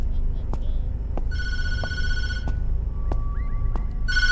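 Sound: telephone ringing in a video game

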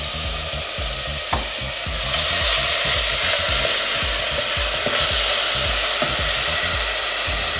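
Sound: finely chopped onion frying in hot oil in a pot

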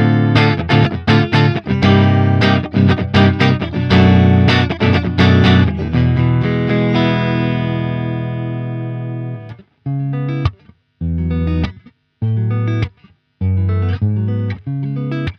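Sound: electric guitar neck pickup

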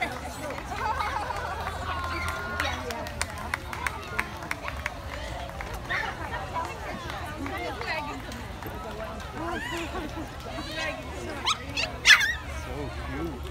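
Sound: beagle barking at a dog show

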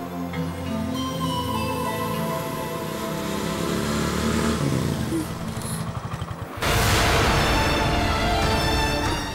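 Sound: motorcycle engine approaching

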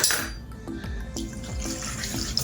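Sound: pouring milk into flour and starch mixture

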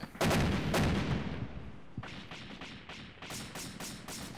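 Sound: rockets fired in a military video game

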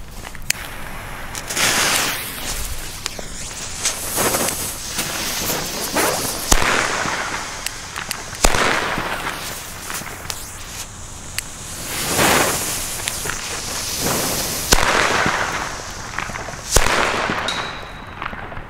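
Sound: Explode XP3 firecrackers exploding on the street

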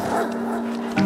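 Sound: dog Barkley barking in the video game The Red Lantern

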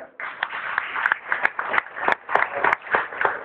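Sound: applause for award recipient

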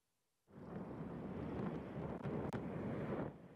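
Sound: ammunition depot explosions in distance

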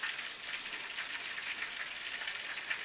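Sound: buttermilk chicken frying in a pan

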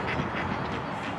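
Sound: ducks quacking

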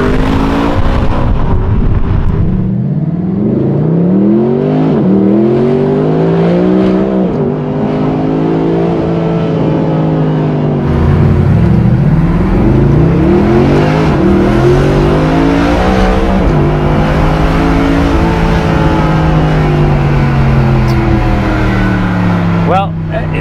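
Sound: Mercedes-Benz AMG titanium exhaust revving, naturally aspirated engine

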